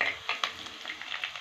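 Onions and curry leaves frying in a pan for a green bean leaf stir-fry, a soft close sizzle with light crackles and a few stirring clinks, fairly faint, no voices.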